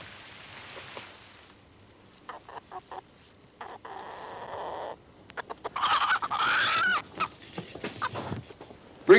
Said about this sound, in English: Bring the chicken in here, Operinus.